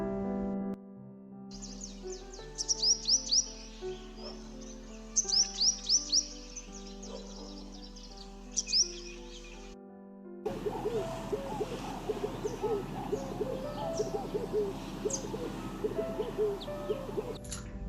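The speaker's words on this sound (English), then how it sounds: "the cry of the red-eyed dove is deeper or heavier than that of the sunbird" A sunbird's high, quick chirping trills come in short bursts over quiet background, then a red-eyed dove gives deeper, heavier repeated cooing calls with softer bird chatter around it.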